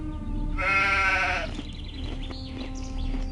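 A single loud, wavering sheep bleat up close in the video game Gothic 2, followed by quieter background ambience and a low steady hum.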